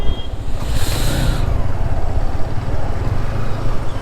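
Dense, heavy road traffic rumbles around a motorcycle on a busy street, with steady engine drone and wind rush, a brief bright hiss early on, and no talking.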